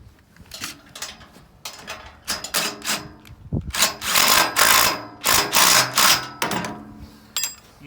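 Metal bolts fitted with lock washers being tightened on a personal trail groomer during assembly, giving a run of close, irregular clicking and rattling tool strokes in short bursts, with no talking.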